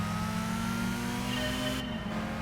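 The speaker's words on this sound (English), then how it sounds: "this sounds like a 1991 Civic" A 1991 Honda Civic racing in a Gran Turismo 5 World Compact Car race: a sustained, droning mid-pitched engine note holding at high revs with a steady whine, loud and continuous with no talk.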